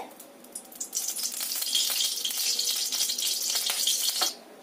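White oil and ghee sizzling in a hot kadai on a gas stove, a steady loud frying hiss that swells after a second and cuts off near the end, with no talk over it.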